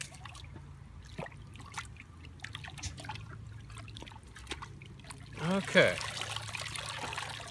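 A chicken dunked in scalding water before plucking, a faint slosh and trickle of water in the background that swells briefly into louder splashing, with a voice speaking over it.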